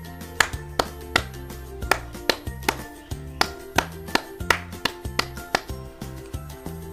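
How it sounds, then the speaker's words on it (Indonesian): Pramuka scout clapping: crisp hand claps beat out a brisk, even rhythm of about three per second, set against a steady tonal musical backing and fairly quiet overall. "Kalau dinyatakan dalam bunyi adalah prok prok prok prok prok prok prok prok prok prok prok prok prok."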